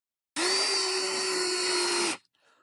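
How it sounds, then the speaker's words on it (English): A power drill with a step bit bores through a winch control box in one continuous, steady whine lasting about two seconds, close and loud, then cuts off sharply. "we're going to want to drill right as close into that radius as possible"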